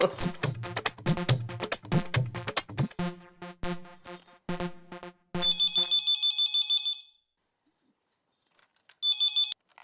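A telephone rings in a domestic comedy scene. Rapid electronic ring tones repeat in fast bursts, then a steady warbling ring sounds, pauses and resumes, loud and close.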